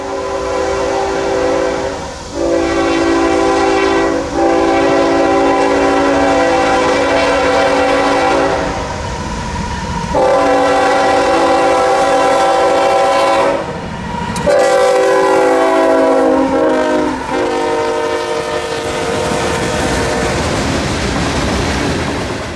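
A CSX coal train rumbles past at Folkston, Georgia, loud and close, with a DPU locomotive at the rear. Several long, sustained horn blasts sound over the steady rolling noise of the cars.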